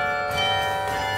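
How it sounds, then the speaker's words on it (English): Carillon bells in Beaumont Tower on a Michigan campus ring out with sustained, shimmering metallic tones, a brief and fairly loud burst of layered ringing with no voices. "As long as the bells aren't frozen, we play."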